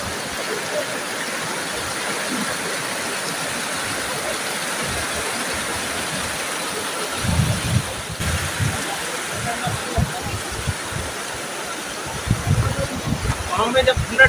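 Cold mountain stream water rushing steadily in Chatral Valley, Pakistan, a continuous broadband flow close by, with louder splashes and a voice talking over it in the later part.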